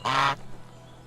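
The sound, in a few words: goose honking in Medieval Dynasty video game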